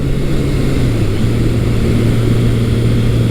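Steady, loud engine drone from a Kawasaki KZ1000 1000cc motorcycle with stock exhaust, a low, even hum that holds throughout, without talk.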